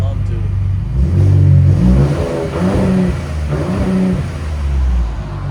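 A Ford Raptor with a 3.5L twin-turbo V6 and Borla ProXS exhaust revs loudly nearby, rising and falling in a few throaty pulls, while a person talks over the engine.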